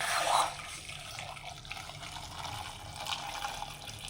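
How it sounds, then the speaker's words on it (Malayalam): Fresh water is poured over drained cassava pieces in a pot for boiling, a close gushing pour at the start that settles into a steadier running trickle. "ഇനി വേവിക്കാനായിട്ട് വേറെ വെള്ളം ഒഴിച്ച് കൊടുക്കാം"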